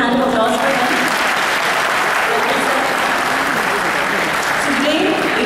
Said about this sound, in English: Can we have a big hand of applause for him?